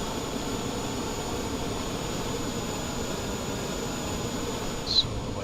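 An auxiliary power unit runs on an Airbus A320neo airliner, a steady broadband whooshing drone with a faint high whine, constant throughout with one small click near the end.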